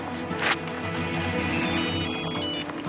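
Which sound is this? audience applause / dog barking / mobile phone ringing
mobile phone ringing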